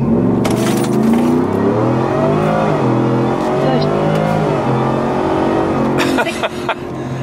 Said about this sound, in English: We're just gonna brake boost and go for it.